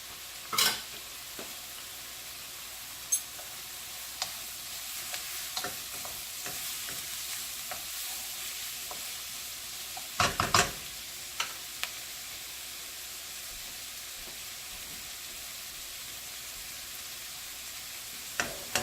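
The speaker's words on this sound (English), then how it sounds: "And then I'm going to put my sun-dried tomatoes in." Sun-dried tomatoes join onion and mushrooms in a frying pan, giving a quiet, steady sizzle broken by sporadic clicks and scrapes of stirring.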